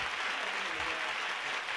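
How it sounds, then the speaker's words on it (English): An audience at a virtual event claps in a faint, even round of applause with no clear individual claps or voices. "A big round of applause."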